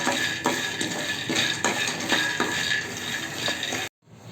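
Ragi being dry-roasted in a pan over a low flame, with steady scraping and rhythmic taps of a spoon against the pan over a soft frying hiss, then a sudden cut to near silence.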